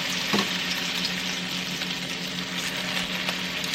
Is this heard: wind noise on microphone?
no